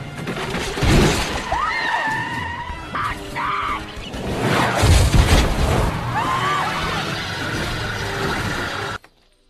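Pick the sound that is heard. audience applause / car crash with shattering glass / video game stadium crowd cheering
car crash with shattering glass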